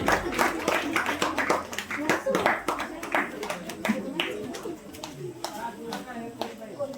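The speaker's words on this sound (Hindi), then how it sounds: "क्लास 8 रो गर्ल्स समस्त जोरदार करताली दियंतु" Clapping from an audience at a school children's day celebration, a scattered run of sharp hand claps rising and thinning over several seconds, with voices talking over it.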